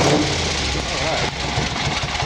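A carbureted engine idles steadily at close range, a constant loud rumble that holds even throughout, with someone speaking over it.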